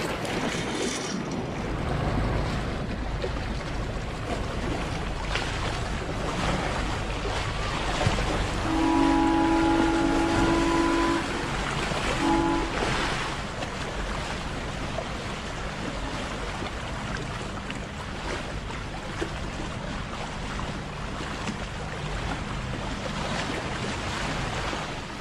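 A boat passing on a lake near Montreux, with waves washing and lapping, wind buffeting the microphone throughout, and a faint steady tone rising briefly in the middle.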